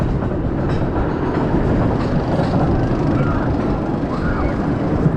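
Loud, steady rumble and clatter of the Runaway Mine Train roller coaster at Six Flags Great Adventure climbing its lift hill, a continuous mechanical drone heard from the front seat.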